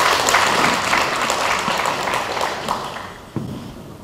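An audience applauds steadily at a women's DMZ peace-walk event, a dense wash of clapping that fades toward the end, broken by one sharp knock.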